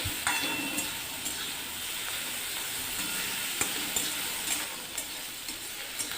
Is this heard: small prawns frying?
yes